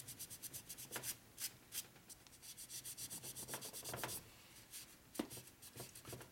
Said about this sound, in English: rub back and forth, it takes off the excess. Kind of just balls up and falls away.